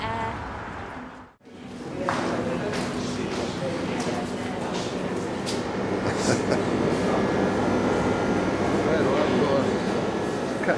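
Metro train in Russia, on one of the deepest subway lines, rolling with a loud, steady rumble and rattle that continues after a brief quiet dip near the start, with people talking over it.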